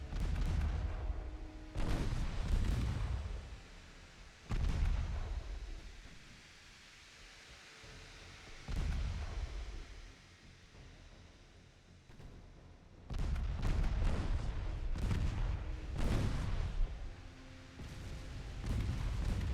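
A torpedo detonates against a warship in the naval game Ultimate Admiral Dreadnoughts, with deep booming blasts rolling out in several heavy bursts separated by quieter rumbling lulls, muffled and distant-sounding.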